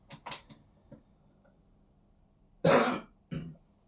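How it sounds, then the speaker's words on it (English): A few small throat sounds, then one sharp, close cough followed by a shorter second cough, in a quiet room. "I'm just going to cough."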